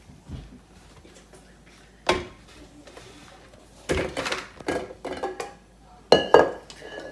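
Oatmeal cookie dough being mixed in a bowl, heard as scattered clinks and knocks of a utensil against the bowl. The sounds come in irregular bursts with quiet gaps between them.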